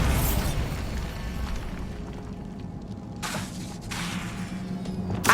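Bombarda blasting spell from Hogwarts Legacy exploding, a heavy boom that rolls into a long rumbling decay with debris and crackling bursts, loud and close, with no voices.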